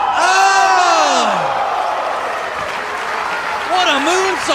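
Wrestling crowd at a CZW Aerial Assault match roaring with whoops, yells and applause, then breaking into a loud rhythmic chant, dense and close throughout.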